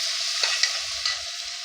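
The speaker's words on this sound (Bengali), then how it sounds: "একটু আদা বাটা দিয়ে দিলাম। আদাটা একটু হয়ে গেলে, একটু ভাজা ভাজা হয়ে গেলে" Ginger paste frying in a pan, a steady close hiss of sizzling oil with a few light stirring scrapes, no voices.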